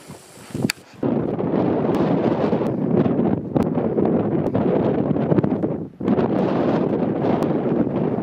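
Wind gusting across an exposed footpath on a Northumberland crag, a steady loud roar buffeting the microphone with brief dips and rustling surges, no talk.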